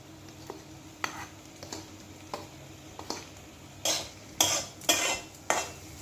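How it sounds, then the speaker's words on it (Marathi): Tender cashew nuts and fresh grated coconut stirred in a pan, with a light sizzle under scattered scraping strokes that grow louder and quicker toward the end, close by and without speech. "आणि हे काजू आणि ओला नारळ छान आता परतून घ्यायचं आहे"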